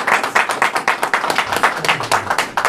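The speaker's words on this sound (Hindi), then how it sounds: "तालियां बजाए" A church congregation at a Christmas service clapping in unison, a steady rhythmic beat of loud synchronized claps, close and energetic, with a faint voice briefly underneath.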